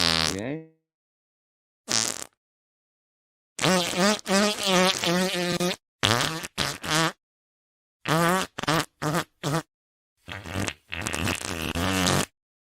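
Recorded fart sounds come in a string of separate bursts, some short and some drawn out, with brief silences between them, loud and close with no talk over them.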